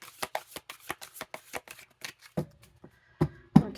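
Tarot cards riffling and slapping together in a rapid run of crisp, close shuffles, then a few slower separate flicks and taps as the deck settles.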